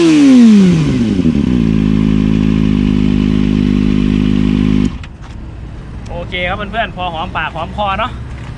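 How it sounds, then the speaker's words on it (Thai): A Kawasaki ZX25R fitted with a red-tipped JP titanium exhaust revs up and settles into a loud, rich high idle close by, then cuts off abruptly, after which someone speaks. "ท่อ JP z x 2 5 r"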